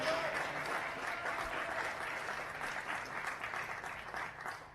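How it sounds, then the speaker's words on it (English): A large crowd applauds continuously at a girls' under-16 football final, a dense wash of clapping that stays loud and even before tapering slightly at the end. "both teams deserve a big round of applause"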